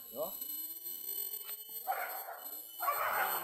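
A dog barks in short bursts outdoors during a wild boar hunt in Pontian, Tanjung Bonai Aur: a yip, then two louder, rougher barks, with a faint whine between them.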